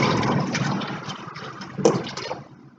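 Soap-making oils pour into a container in a steady liquid stream, with a brief splashy burst partway through, close and moderately loud with no talking.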